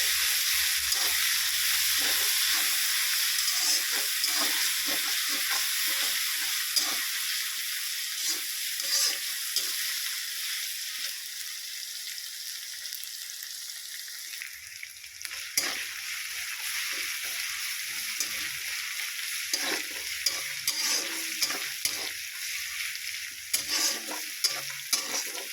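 Ginger-garlic paste frying with onions in a pan for rohu fish curry makes a steady hissing sizzle, with frequent close scraping and stirring strokes that grow busier in the second half, no talking.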